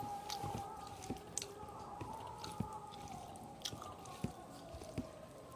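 Someone chews rice mixed with fish oil up close, with quiet wet squishes and soft irregular bites against a low background hum, no talking.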